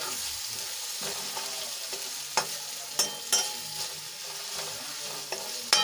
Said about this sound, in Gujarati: હવે ડુંગળીને આપણે આછા ગુલાબી રંગની થાય ત્યાં સુધી આપણે એને સાંતળી લેવાની છે